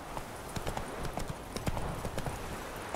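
Horse galloping in the video game The Witcher 3: Wild Hunt, a quick, steady run of hoof clip-clops up close, with faint game ambience behind.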